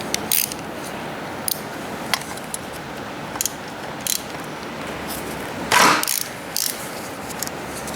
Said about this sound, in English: So the reel is spinning every time I pull